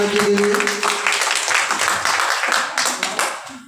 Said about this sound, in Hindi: एक बार जोरदार ताली हो जाए हमारे भाई प्रेमनाथ जी के लिए।